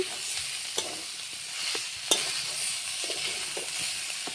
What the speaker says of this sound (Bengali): মশলাগুলি ভাজা হয়ে গেছে, তারপরে আমি এগুলি কাঁঠালগুলি দিয়ে দিছি।